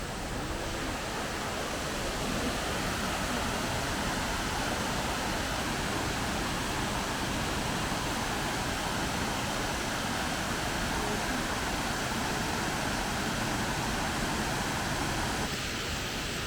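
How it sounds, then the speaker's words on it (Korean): Yongchu Falls, a waterfall with a pavilion above it, pours in a constant, dense roar of falling water that holds steady and unbroken for the whole stretch. "여기가 용추폭포라는 곳인데"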